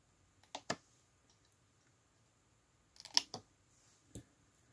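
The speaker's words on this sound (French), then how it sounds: "c'est parti avec une paire de ciseaux" Paper envelopes are cut with a pair of scissors in a card-making craft, giving a few sharp, close snips and clicks in short bursts separated by quiet pauses.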